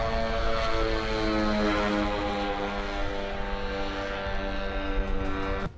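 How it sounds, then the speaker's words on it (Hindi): Hezbollah attack drones launch and fly, their propeller engines producing a loud, steady buzzing drone with a layered harmonic hum that holds throughout, no voices present. "ड्रोन्स फायर करते हैं।"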